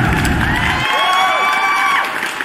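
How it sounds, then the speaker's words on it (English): Crowd cheering and applause sound effect, a loud burst of mixed cheers and whoops with clapping, the low roar cutting off early while high shouts and whistles carry on to the end. "give him that round of applause"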